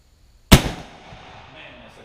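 A Jukar .45 caliber Kentucky black powder rifle, fired with a CCI percussion cap, gives a single sharp, loud crack after a moment of near silence, followed by a short fading rumble.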